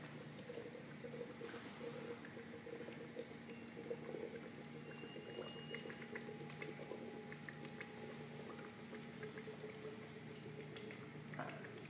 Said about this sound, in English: water runs down and this tank, the bottom tank, is pressurized. So it causes the water to come up and out of this tube